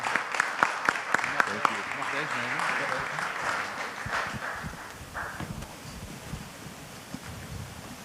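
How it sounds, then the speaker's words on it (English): Audience applause at a conference talk rises as a broad wash of many hands after a few distinct early claps, then fades into room noise and low rumble with voices underneath. "Hand of applause."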